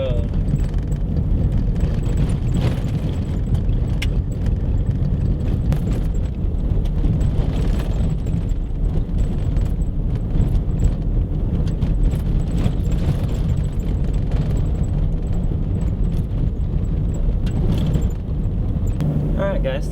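A Jeep drives on a gravel road with worn shocks: a continuous loud low rumble and crunch of tires on stones, with steady rattling and jostling throughout and no breaks.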